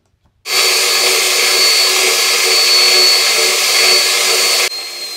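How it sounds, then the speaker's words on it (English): A spindle sander smoothing a walnut and clear epoxy charcuterie board, starting abruptly into a loud, steady whirring grind that holds for about four seconds before cutting off into a quieter hum. "I'll use a spindle sander and try to just clean that up a little bit"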